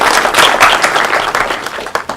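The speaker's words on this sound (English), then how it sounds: "So big round of applause" Loud, close applause fills a conference hall at a Leaders of Tomorrow Congress, a thick continuous patter of many hands clapping together with a few sharper claps standing out near the end.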